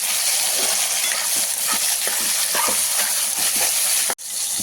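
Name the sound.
vegetables being fried and mixed in pan for upma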